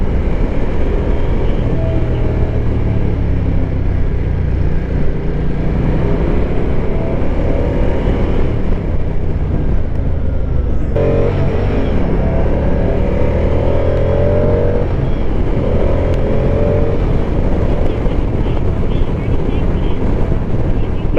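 A 2024 Moto Guzzi Stelvio motorcycle drones along on the road, its low grunty exhaust steady and loud beneath heavy wind rush, with a gear change partway through and a voice talking over it.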